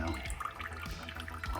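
Water flows and splashes out of the opening of a propane tank filled to the brim, a soft close trickle with small gurgles during a brief moment.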